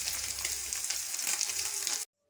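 Cumin seeds crackle and sizzle steadily in hot oil for a Bengali singi fish curry, a dense close frying hiss that cuts off abruptly near the end.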